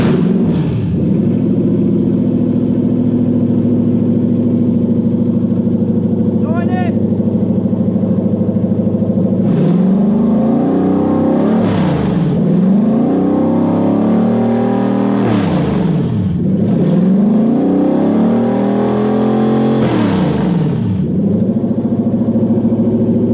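A Toyota 1UZ-FE V8 engine fitted in a Daimler car idles loudly, then revs up sharply three or four times in a row, each rev rising and falling back to a steady rumble.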